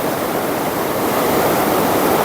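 Churning, turbulent river water rushes through rough rapids on the Cèze, a steady, loud, broadband roar filling the whole stretch with no voices.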